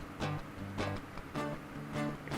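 Low guitar chords strummed without a capo in a clean, dry, unfiltered tone, four or five strokes ringing out one after another at a moderate pace.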